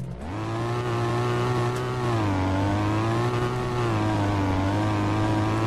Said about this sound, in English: driving Gavro Romo off-road configuration with a rather weird engine